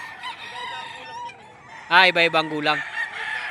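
Chickens from Agoncillo, Batangas, of various ages, cluck softly before a rooster lets out a loud, close, pulsing crow, with someone speaking briefly over the flock.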